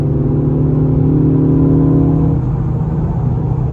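A Ford Focus ST fitted with a Borla S-Type exhaust revs loudly up close, a deep, smooth droning engine tone that holds steady and then dips briefly near the end.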